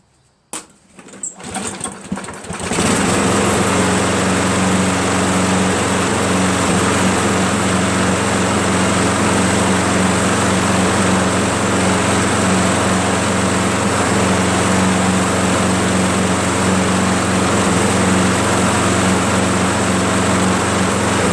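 A Craftsman 7HP lawn mower engine sputters through a rough start, then settles into a loud, continuous buzzing run with a steady drone close by, no voices over it.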